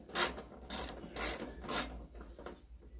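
A bolt being threaded by hand into a welder during a repair, heard as four loud, evenly spaced ratcheting bursts followed by two fainter ones, close and without talk.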